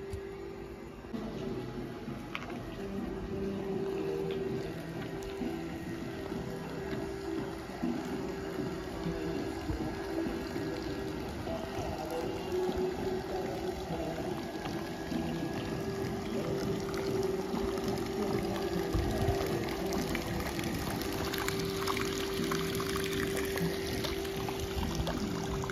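Water pours steadily into an aquarium tank for a long stretch, a continuous splashing gush with a low humming hum underneath and no talking.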